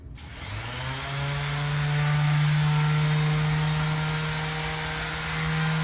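A Makita rectangular sander starts up and runs steadily, a loud continuous motor whine with a strong low hum that ramps in over the first half-second and then holds evenly, with no talking.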